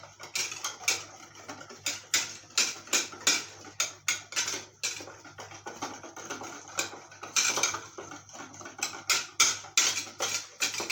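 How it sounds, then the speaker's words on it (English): Mashed bananas mixed by hand in a bowl for banana bread, a utensil clinking and scraping against the bowl in a quick, steady rhythm of close taps, with no talk. "Then you mix it well."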